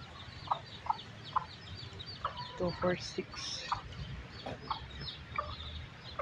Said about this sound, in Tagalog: Yung manok oh.